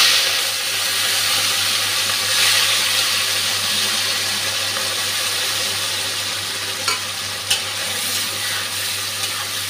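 Shrimp coated in salt and turmeric fry in a pan with a steady, loud sizzle and crackle, a couple of sharper pops near the end, no voices.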